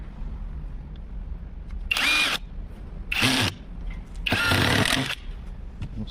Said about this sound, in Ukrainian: Подивимося, як він буде працювати з саморізом.